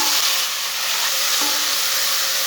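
Whole green chilies and chopped tomato fry in hot oil in a pan for kadhi, with a loud, continuous sizzle and hiss close up and a brief stirring scrape partway through.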